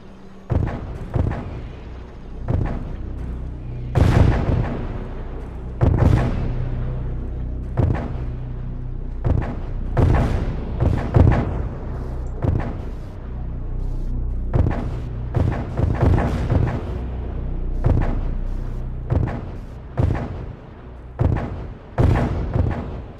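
Cannons fire cannonballs in a War of the Worlds fan video game, a long barrage of loud booming blasts at irregular intervals, some overlapping, with rumbling between shots and no speech.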